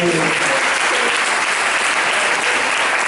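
A church congregation applauds during an annual congress service, a dense, loud wash of continuous clapping that fills the whole span without a break.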